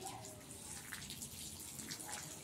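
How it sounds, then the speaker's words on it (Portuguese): A weak, gentle jet from a garden hose sprinkles water over orchid leaves, a soft steady splashing and patter close by. "molhando as folhas com a água, com jato, no caso, como eu tô molhando com a mangueira"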